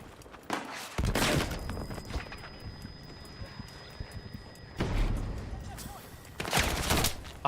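Gunfire in a video game shooter: rapid volleys of shots with overlapping crackle and clatter, moderately loud throughout, with louder bursts near the start and end.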